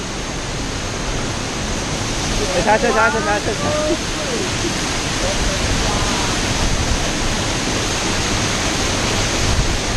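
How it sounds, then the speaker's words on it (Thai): A waterfall pours into the sea near Myeik, Myanmar, making a continuous, even rush of falling water. Someone speaks briefly over it, and a few faint chirps appear near the start. "สวยนะครับธรรมชาติน้ำตกนะครับผม"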